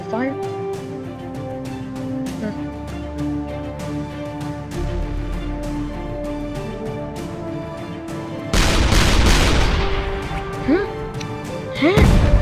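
Artillery shots in the Shell Shock Live game: muffled thumps early on, then a heavy, roaring blast and a second loud impact near the end, with a person talking throughout.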